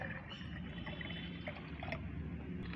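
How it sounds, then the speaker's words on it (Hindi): Tea leaf water is poured into a container of plain water, a faint continuous splashing and trickling with a few small drips, heard alone without talk. "5 से 6 गुना आपको सादा पानी लेना है और उसमें ये चाय पत्ती का पानी डाल देना है।"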